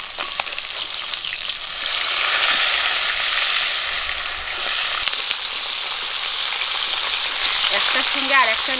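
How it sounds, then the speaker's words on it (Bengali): River bata fish frying in hot oil while being flipped, a loud close sizzle spread across the whole stretch with brief clatters of handling and no speech. "মাছগুলো এখন উল্টে দেব"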